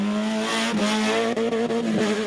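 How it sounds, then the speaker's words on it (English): Rally car with gearbox and exhaust problems during the Garden Route Rally 2011, a loud close engine drone with steady harmonic tone, shifting pitch and brief dips as it strains through the stage. "Massive gearbox problems, and you can hear that on the shot as well."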